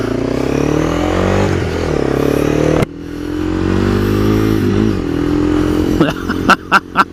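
A Honda CB300F motorcycle engine drones loudly and steadily while riding, its pitch rising and falling with throttle changes, broken by a brief cut near the middle, then ending in a few sharp clattering knocks.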